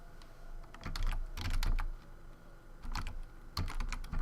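Rapid typing on a computer keyboard, close and clear, with bursts of clustered keystrokes separated by short pauses and no talking.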